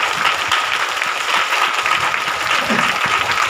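Congregation clapping at a Hindi church service, a steady wash of hands throughout with faint voices mixed in.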